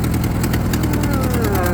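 A vehicle engine runs steadily and close by while being shifted up into third gear in a yard, a continuous mid-pitched drone with a faint rising whine and light knocking texture throughout.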